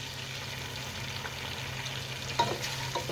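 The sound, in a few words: onion added to hot oil with whole spices, frying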